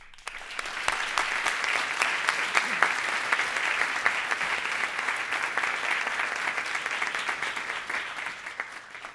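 A large lecture-hall audience at the Kennedy School claps steadily in a dense, sustained round of applause welcoming a guest lecturer, with no talk over it.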